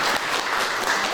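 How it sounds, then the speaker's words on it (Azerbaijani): An audience at a history and language symposium in Amasiya applauds, dense continuous clapping filling the hall at steady volume for the whole brief moment. "Şəmsi müəllimi gəlin alqışlayaq bir də təbrik edirəm."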